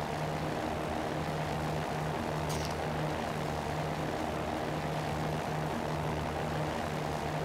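Cirrus SR20 propeller plane engine in the X-Plane 11 flight simulator, a steady droning hum with a low pulsing buzz, heard from outside the aircraft at moderate level, with a faint brief click partway through.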